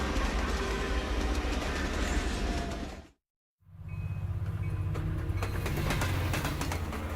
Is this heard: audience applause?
no